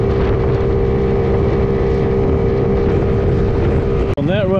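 A Maddog 50cc GY6 139QMB scooter riding at speed on flat land, its engine a loud, steady high-revving drone with heavy wind rush, ending with a brief cut and a rising rev.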